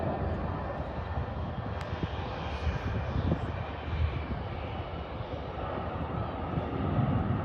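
A Southwest Airlines airliner takes off at Charlotte Douglas airport, its engines roaring as a steady, broad, loud rumble that holds for the whole stretch, with no talk over it.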